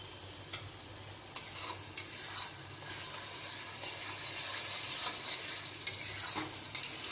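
Masala with chili powder, green chilies and salt for chicken chana masala being fried, a steady soft sizzle with occasional scraping stirs and light clicks, close and moderately quiet.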